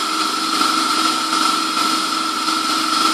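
An Emco F1 CNC milling machine cuts aluminium with a carbide bit, making a steady, loud, continuous whine and hum with no talking.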